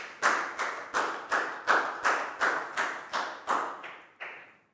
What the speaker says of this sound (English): High five and a big round of applause for Prau, please, guys.